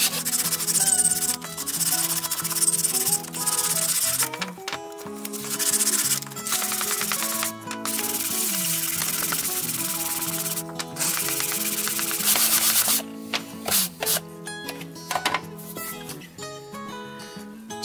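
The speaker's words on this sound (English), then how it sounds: "wrap a piece of 220 grit sandpaper around this piece of wood and do a little sanding by hand" 220-grit sandpaper wrapped around a wood block rubs across wood by hand in repeated scratchy strokes, with brief pauses between bursts of sanding.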